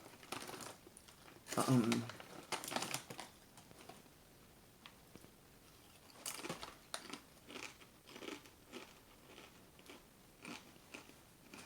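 Crisp crunching bites of grain-free cassava chips, a few loud bursts early then lighter intermittent chewing crunches, close to the mic, with a voice faintly present.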